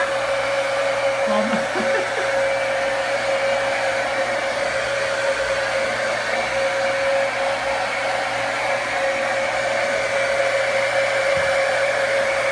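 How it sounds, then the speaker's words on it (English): A hair dryer blows steadily and loudly for the whole stretch, a constant whooshing roar with a motor whine, while a voice speaks briefly over it. "you want another blow dry?"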